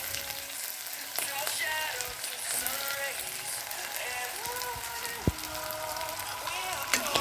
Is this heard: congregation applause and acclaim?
no